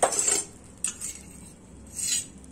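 A spatula scraping and clinking against a hot frying pan while an aloo paratha is flipped over a low gas flame, a few short metallic strokes close up with quiet pauses between them.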